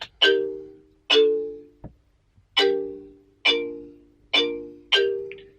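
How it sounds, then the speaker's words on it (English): Marimba patch played with mallets in a UK Afrobeat production, a clean series of struck chords, about six evenly spaced hits that each ring and decay, played alone without talk. "So the patches are marimba phone under mallets, and also I think marimba"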